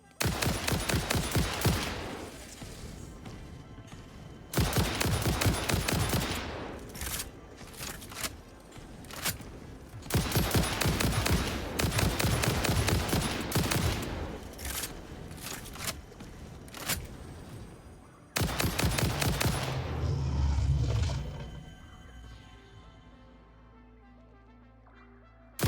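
Automatic gunfire in Satisfactory comes in long, loud stretches of rapid shots broken by short gaps, then drops away at the end to a quieter low rumble.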